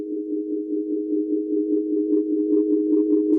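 Cosmos Echo delay on a Line 6 Helix pushed into feedback self-oscillation, a steady sustained droning tone that holds loudly throughout, with faint upper harmonics creeping in toward the end.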